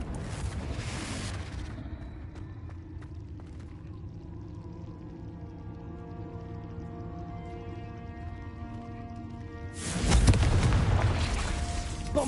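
A Bombarda explosion spell in Hogwarts Legacy bursts twice: a broad, booming blast opens the sequence and a second heavy low-end detonation hits near the end, with a humming, ringing tail between them.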